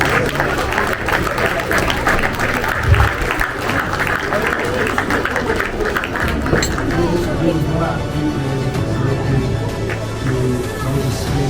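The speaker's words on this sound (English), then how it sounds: "Big round of applause." A crowd at an awards ceremony claps steadily, with voices and cheering mixed into the applause throughout.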